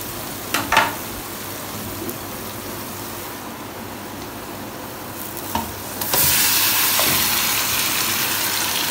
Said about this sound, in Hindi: अब जो मैरिनेट किया हुआ था ना चिकन हमने, वो इसके अंदर डालते हैं